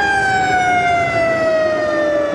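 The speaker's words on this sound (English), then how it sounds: "I didn't hear that siren until he got to the intersection." An emergency vehicle siren wails loudly and close by as it passes through an intersection, its steady tone sliding slightly downward in pitch throughout, with traffic rumble beneath.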